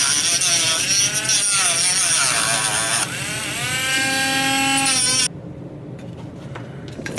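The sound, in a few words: grinding off part of an RC model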